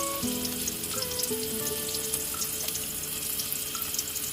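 Tomatoes sautéing in a pan while cooking sinigang with corned beef, a steady soft sizzle with faint scraping and watery hiss, moderately quiet and without talk.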